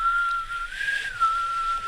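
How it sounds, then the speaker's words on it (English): A lone person whistles a high, steady tone that wavers slightly in pitch, sustained for a couple of seconds against a quiet background. "Your whistling stinks."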